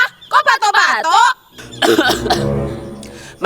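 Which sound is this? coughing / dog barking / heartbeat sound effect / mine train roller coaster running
coughing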